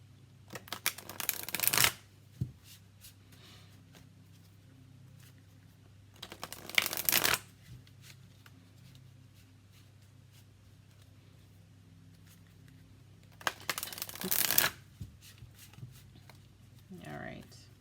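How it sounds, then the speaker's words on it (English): Angel oracle cards are shuffled in three separate bursts of quick riffling, each a couple of seconds long, close and crisp, with quiet pauses in between. "Go ahead and shuffle a couple times."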